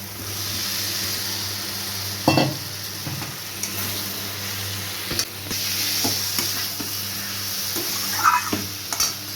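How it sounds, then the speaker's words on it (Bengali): Fried potato and taro pieces stirred into sizzling cooked masala for a Bengali fish curry, a steady close frying hiss broken by intermittent scraping stirs and a few sharp utensil knocks, with no voices. "এরপরে এর মধ্যে দিয়ে দেবো ভেজে রাখা আলু আর কচু"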